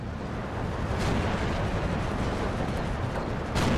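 SU-122 self-propelled gun firing in Steel Division 2, distant heavy booms within a dense, steady rumble of battle noise, with a louder shot near the end.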